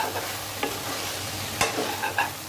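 Sliced okra fries in a covered pan, a soft constant sizzle close by with a few sharp clicks and scrapes of a spatula, no voices.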